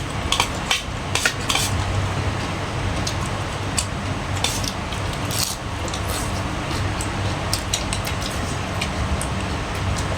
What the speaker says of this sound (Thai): คนๆเลยครับ